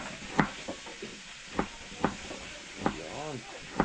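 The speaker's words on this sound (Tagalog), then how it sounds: "Habang nag-aantay tayo sa pagprito" Two eggs fry in a pan under a steady soft sizzle, with regular taps and scrapes from a utensil and a brief voice partway through.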